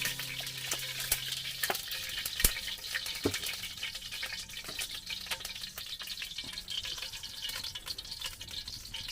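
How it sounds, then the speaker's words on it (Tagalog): Meat sautéing in hot oil in a pan, a steady bright sizzle with scattered clicks and scrapes of stirring, continuous and close, with no talk. "Magsasangkot siya muna ng karne."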